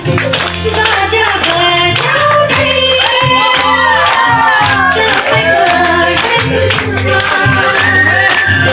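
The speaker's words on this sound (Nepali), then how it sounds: "ताली बजाउनुहोस्, बाबु नानीहरू ताली बजाउनुहोस्" Children clap along at a church Christmas celebration, their rhythmic claps blending into loud, continuous music with a steady beat throughout.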